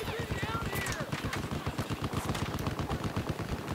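Rapid automatic gunfire from a weapon in the Battlefield 4 video game, a dense, continuous burst of loud cracks with steady rhythm and no pauses.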